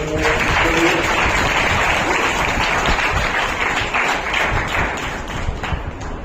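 A hall audience at an oratory award ceremony in Nagpur claps in sustained, loud applause, with dense overlapping claps that hold steady and fade slightly toward the end.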